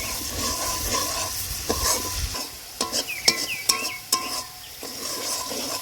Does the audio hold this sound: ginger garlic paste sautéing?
yes